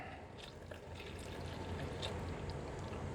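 Water pours in a continuous, soft stream into a ceramic glaze mixture, a quiet liquid wash that swells slightly toward the end, heard alone without talk.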